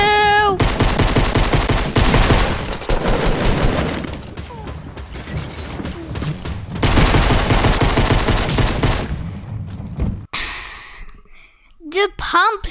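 Heavy shotgun blasts and assault rifle bursts in a Fortnite match, loud dense rapid gunfire filling most of the stretch with brief pauses, a few mechanical clicks and breathy sighs near the end.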